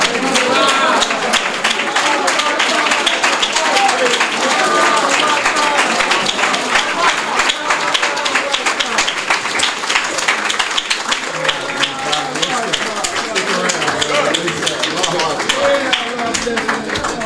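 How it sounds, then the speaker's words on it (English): Dense, sustained applause from an audience at a religious lecture after a speaker finishes, loud and continuous throughout, mixed with crowd noise. "let's give our brother another well-deserved round of applause"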